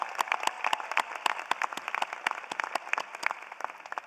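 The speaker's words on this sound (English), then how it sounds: "Please join me in a round of applause for these outstanding students" Applause from a graduation audience at a college commencement ceremony, a steady patter of many hands clapping at moderate distance, alone without speech.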